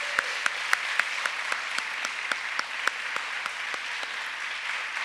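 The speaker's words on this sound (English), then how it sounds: "Let's give one more big round of applause for our speech meet qualifiers." An audience at a Christian school chapel gives a long, steady round of applause for student speech meet qualifiers, dense clapping with a few sharp, distinct claps standing out, moderately distant.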